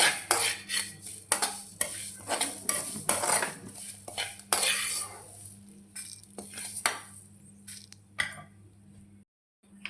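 Red chillies are scooped from a pan into a bowl. A spoon scrapes and clinks against metal cookware in a close, uneven series of strokes, then the sound tapers off and drops to silence near the end.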